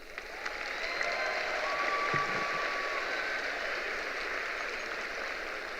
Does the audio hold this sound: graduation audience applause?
yes